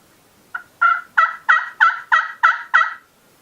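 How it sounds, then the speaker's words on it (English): Seven evenly spaced turkey yelps are played on a slate turkey call. They are loud, close and crisp, each one a short raspy note that rises in a steady rhythm, and the series ends in silence. "then I always finish that up with just a few little yelps."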